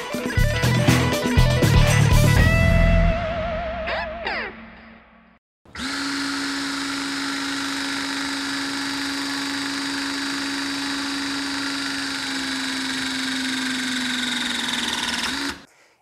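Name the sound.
battery-powered 12-ton terminal crimper EK1240 running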